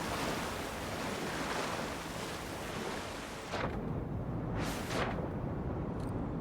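Steady rushing waterfall roar in the Avowed video game, broadband and continuous, with a brief dip then two gusty whooshing surges near the end.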